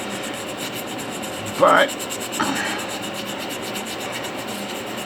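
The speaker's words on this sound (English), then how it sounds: "you just keep working until everything looks the same with that particular grit of sandpaper." Sandpaper rubbing against an echinoid fossil: two short, raspy scrubbing strokes, the first louder, over a steady background hiss, with a single spoken word.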